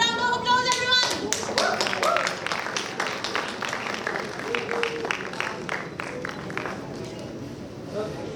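Audience at an international pharmaceutical conference claps loudly, sharp hand claps thinning out over several seconds while voices murmur underneath.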